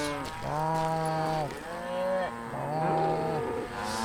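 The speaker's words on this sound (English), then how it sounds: "Oh, these cows." Cows moo in the video game Call of Juarez: Gunslinger, in slow succession, three long drawn-out lows at moderate volume with no talk in between.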